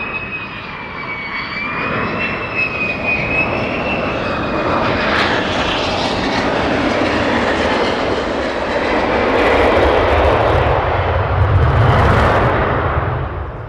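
Military jet aircraft approaching to land at RAF Lakenheath, a steady loud engine roar and whine that swells toward the end, heard alone without talk.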